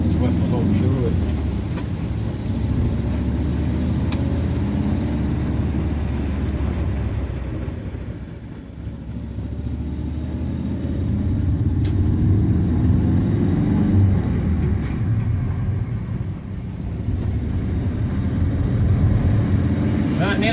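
A classic Ford Zephyr MKIV V4 with a blowing exhaust and slipping clutch drives along, its low engine rumble swelling and easing as it revs. Someone talks over the engine noise.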